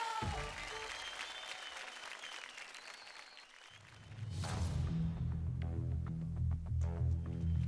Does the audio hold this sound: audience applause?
yes